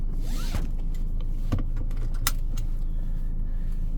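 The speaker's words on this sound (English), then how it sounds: "Don't forget to buckle up, peoples." A seatbelt is pulled out and buckled inside a 2023 BMW X1, a quick run of close, sharp clicks and rustles over a steady low cabin hum.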